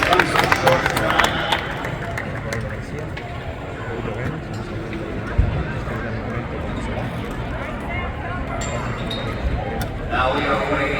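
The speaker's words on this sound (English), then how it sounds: "Some round of applause" A jam-packed boxing crowd at T-Mobile Arena in Las Vegas roars and claps continuously, a dense wash of cheering and babble with a sharp thump midway and swelling applause at the end.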